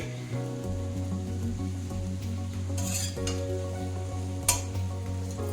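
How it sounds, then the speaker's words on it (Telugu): Peppercorns and mint leaves dry-frying in a pan, giving a steady close sizzle with a rattle of stirring and scraping against the metal throughout, plus a sharper clink near the end. "ఇక డ్రైగా ఫ్రై చేస్తున్నానండి"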